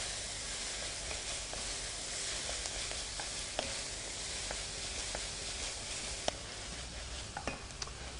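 Minced garlic sweats in a hot pan with a steady, even sizzle and faint crackles, plus a few sharp clicks of a utensil against the pan, moderately quiet and with no voices.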